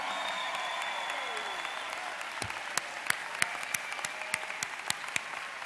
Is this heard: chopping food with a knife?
no